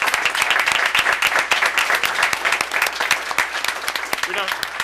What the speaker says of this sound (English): let's give the Rotary a round of applause